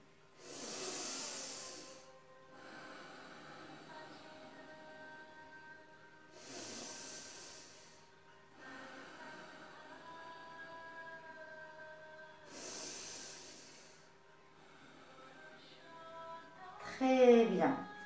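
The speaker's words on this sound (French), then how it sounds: "on procède à 3 respirations profondes" Three slow, deep breaths during a children's yoga exercise, each a long hissing exhale at even intervals, with quiet music humming underneath and a brief sharper sound at the end.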